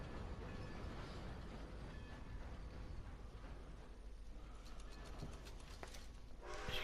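Train riding in the video game Red Dead Redemption 2, a steady low rumble of rolling wagons with faint rhythmic clacking and light mechanical rattles, quiet and continuous without speech.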